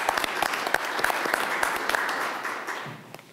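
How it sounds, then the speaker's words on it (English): Audience applause at a college articulation agreement signing, a close burst of steady hand clapping from a modest crowd that thins out toward the end. "If we could give them a round of applause."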